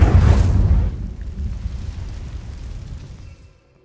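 An Incendio fire spell cast in Hogwarts Legacy lands as a loud burst, then a rumbling, crackling decay that fades over a few seconds into near silence.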